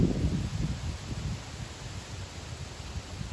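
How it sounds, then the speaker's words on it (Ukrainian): Wind sweeps through leaves in a soft, steady rustle in an apple orchard by a forest pond, a gust swelling at first and then settling into a quieter hiss. "У нас піднявся вітер"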